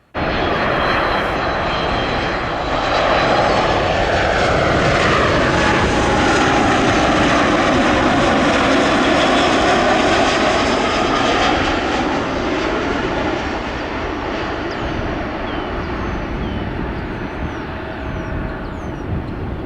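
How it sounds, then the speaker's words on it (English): A United Boeing 737 airliner roars past at O'Hare International Airport, its loud jet engine noise building and sweeping in pitch as it passes, then slowly easing while still strong; no talking. "Then I got my final United 737 before the grand finale."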